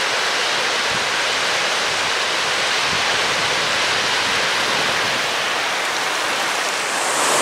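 A steady, dense roar of rushing water from Rhiwargor Falls fills the whole stretch, loud and unbroken, with no voices.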